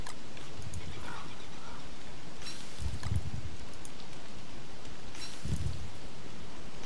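Steady rain in the game Don't Starve Together hisses continuously and evenly throughout, with a few soft low thumps and brief brighter bursts rising above the constant downpour, and no talking.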